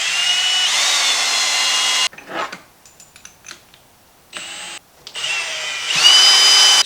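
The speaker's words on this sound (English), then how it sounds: "I'm going to start with a small drill bit and try to work my way up on this" A power drill whines loudly at high speed with a small bit, stops, then runs again in short bursts with small clicks and rattles between, close by, drilling on a GMT400 truck during an LS engine swap.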